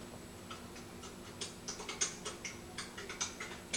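Someone types on a computer keyboard in a quiet room, a steady run of soft, quick key clicks at moderate distance.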